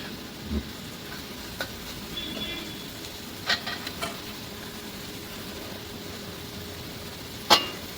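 Onion and drumstick-pod vegetables fry in a pan on a stove inside a truck cab, giving a steady soft sizzle broken by a few faint clinks of stirring.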